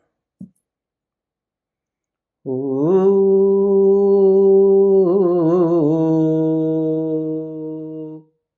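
After a faint click, a voice sustains a long, resonant humming tone that wavers midway, imitating a ringing twang.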